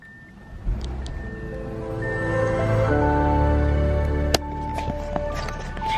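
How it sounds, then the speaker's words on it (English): An Audi Q8 SUV plays its welcome sound as the car powers on: a gentle electronic chime melody of layered sustained tones that rises step by step and ends with a brief sharp tick and a few softer notes. "this car also plays a welcome sound to welcome you to your Q8"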